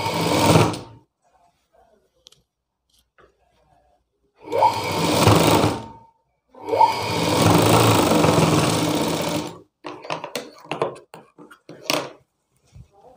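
A sewing machine stitches a blouse piece in short bursts, a loud buzzing whir that starts and stops three times with quiet pauses between, followed by light clicks and handling noises.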